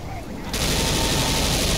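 Sustained burst of gunfire in the zombie shooter Left 4 Dead, a dense loud rattle that starts abruptly after a brief quiet lead-in and continues steadily to the end, with a voice faintly underneath.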